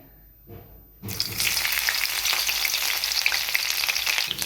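Green chilies dropped into hot oil, with a brief faint rustle and then a sudden loud, steady sizzle that holds close and strong to the end, with no talk.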